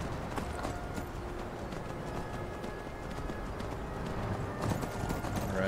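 Hooves of a horse galloping in the video game Skyrim make a steady, continuous clip-clop, at moderate volume, over an outdoor wind-like background, with a short burst of added noise near the end.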